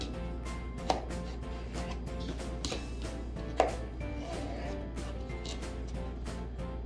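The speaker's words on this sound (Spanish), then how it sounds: "vamos a empezar partiendo todas las calabacitas" A knife chops zucchini on a cutting board in a home kitchen, a steady run of quiet, rhythmic taps with two louder knocks near the start and middle.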